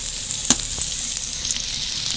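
Steady sizzling of onions and green chillies frying in hot oil with five-spice, with a few soft pops and crackles, close by and alone.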